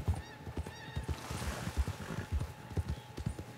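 In Red Dead Redemption 2, a horse whinnies while its hooves clip-clop in a steady, close rhythm along a ridge, with repeated neighs layered over the hoofbeats.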